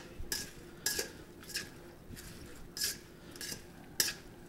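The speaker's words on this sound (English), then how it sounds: "after we toss the salad" Dressed lettuce salad tossed in a bowl, giving a series of soft, clattering utensil strikes and rustles at irregular intervals, close and fairly quiet, with no one talking.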